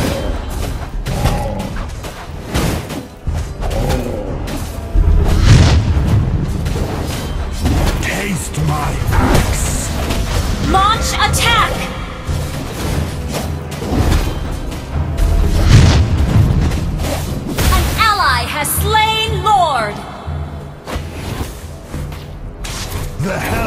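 Loud booms and crashes from a MOBA battle game featuring the hero Balmond, marking an enemy turret's destruction amid a dense mix of game effects, music and repeated announcer voice lines.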